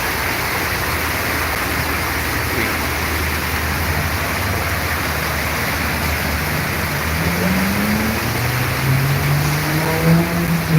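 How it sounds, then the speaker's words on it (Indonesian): Steady broadband hiss of heavy rain pouring down in Indonesia, with a low bus engine rumbling and rising in pitch toward the end. "Hujan deras"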